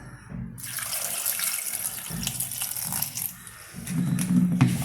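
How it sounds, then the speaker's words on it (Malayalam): Water pours from a tap into a cooking pot of turmeric-seasoned banana stem for a Kerala curry, a splashing, gurgling stream that swells and fades in short runs, nearby and moderately loud, with no talking. "ഇനി നമുക്ക് ഇതിനാവശ്യമുള്ള വെള്ളം ഒഴിക്കാം"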